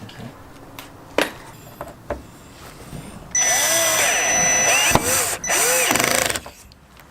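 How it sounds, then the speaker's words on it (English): Power drill cutting a 1/8 inch hole into the metal body of a Lexus SC300 turbo for hood pins, a few taps and clanks, then two sustained whining drill bursts up close. "So this is drilling into where the hole is."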